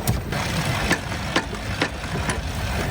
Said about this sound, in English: I'm impressed with this little saw.